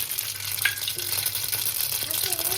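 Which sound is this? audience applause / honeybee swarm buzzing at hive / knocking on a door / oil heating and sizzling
oil heating and sizzling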